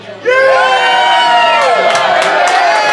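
A live audience at a bar in Richmond, Virginia, bursts into loud, sustained cheering, whooping and screaming for a contestant, a dense roar of many voices holding at full volume throughout.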